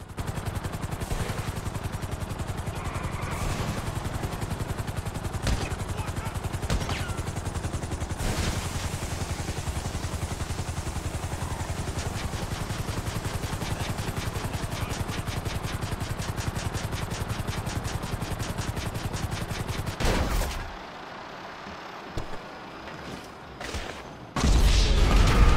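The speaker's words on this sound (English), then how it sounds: "Who would have guessed flare shots would be so deadly?" Gunfire in the GTA V video game, with flare gun shots in a steady, loud stream of shots and booms over constant background noise, ending in a short quieter stretch before another loud burst.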